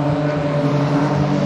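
BMW race cars pass on a racetrack, their engines a loud, continuous high-revving whine heard up close, steady through the brief pass.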